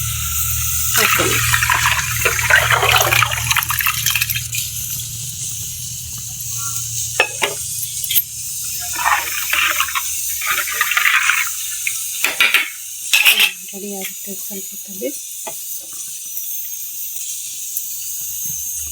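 Water rushes and splashes into a pot of washed rice for mutton kushka, a loud, broad gush that comes in bursts, with a person talking over it.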